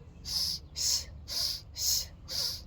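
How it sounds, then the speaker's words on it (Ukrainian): Deep belly breathing during a breathing exercise, with five slow, evenly spaced breaths heard close up as soft airy rushes and brief pauses between them, with no talking. "Коли ви робите вдих, у вас живіт надувається. Коли ви робите видих, здувається."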